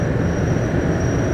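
A Montréal Métro MR-73 train running: steady, loud rumble of rubber-tired wheels and motors inside the car, with a constant high whine over the broadband roar, no voices.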